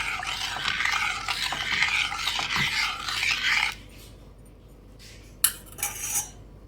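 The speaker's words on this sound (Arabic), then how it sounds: "هفضل اقلب فيه بقى واسيبه لحد ما يستوي" A spoon stirs and scrapes rice pudding around a pot in a steady rasping rhythm for several seconds, then stops, followed by a couple of sharp clinks of the utensil.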